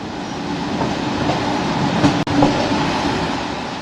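Train running on rails in Bulgaria at about 60–70 km/h, a steady rumble with faint clickety-clack of wheels over rail joints throughout, heard from on board.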